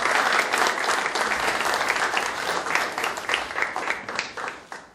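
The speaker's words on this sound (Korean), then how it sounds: "우리 박수로 두 분 환영하고 하겠습니다" Meeting participants applaud to welcome two new members attending their first meeting, a dense burst of hand clapping from a sizable group that stays loud before gradually thinning out toward the end.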